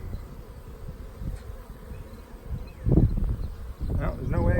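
Honey bees humming around an open beehive during an inspection of frames, a steady close buzz throughout with a person talking over it.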